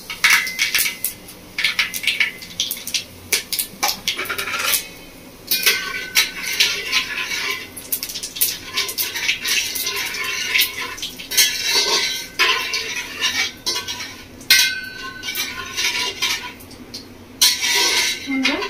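Whole spices including mace, a little sugar and dried red chili sizzle in hot oil in a pan for a Bengali village-style mutton kosha, with busy metallic clinks and scrapes of stirring throughout, close and loud.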